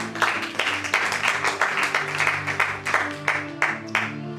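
A church congregation claps in a steady rhythmic beat, many hands together with sharp, evenly spaced bursts, over a sustained low musical drone.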